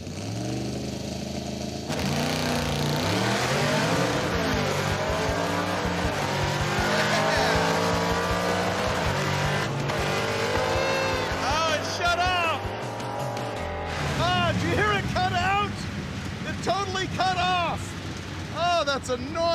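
A 1971 Chevy Suburban makes a cold-weather drag launch as its engine roars up through the revs and its tires spin and squeal, loud and sustained, with people talking over it.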